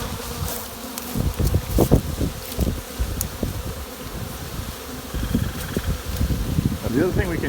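A honey bee swarm buzzes loudly and continuously as bees are brushed into a box outdoors, a dense close hum with rustling and knocks mixed in.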